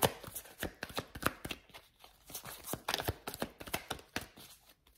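Tarot cards are handled and drawn close by, making a quick run of sharp flicks and slaps in an uneven rhythm, alone without speech.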